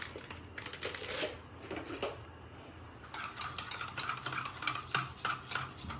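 Chicken gravy with Kashmiri chilli oil being stirred in a pot, giving a steady run of close scraping and light clinking utensil sounds over about six seconds, busier toward the end, with no talking.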